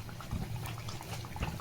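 Battered raw plantain pieces fry in hot oil for bajji, a steady close bubbling crackle with small pops throughout.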